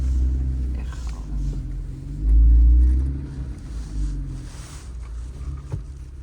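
A car engine rumbles low and close while the driver shifts into second gear, with a deep surge of power partway through and a steady drone around it.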